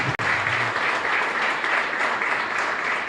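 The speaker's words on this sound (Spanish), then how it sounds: "Fuerte aplauso para el Señor entonces" A church congregation claps at Mass in a chapel, giving sustained, even applause with a brief voice at the very start before the clapping carries on alone.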